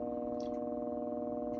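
Several mixed sine tones spanning 720 Hz down to 240 Hz hold a steady, layered hum that pulses gently as the frequencies beat against each other, with faint clicks on top.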